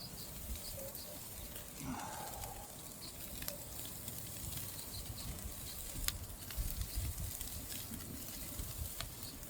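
Steak searing in a very hot pan, a steady soft sizzle running throughout at low level with a few faint ticks and pops over it.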